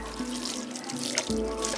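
Tap water running over freshly chopped carrots and beans being rinsed, a steady close splashing and trickling stream with no talk.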